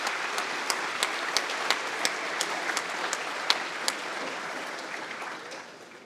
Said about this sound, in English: join me in a round of applause for our sponsors tonight